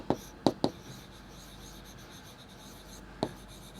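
Chalk or marker strokes on a classroom board during a maths lesson: a few short, sharp scratches near the start and one more after a pause, fairly faint against quiet room tone.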